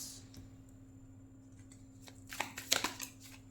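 Tarot cards being drawn and handled on a table, a few soft slides and crisp flicks clustering toward the end over a faint steady hum, close and quiet.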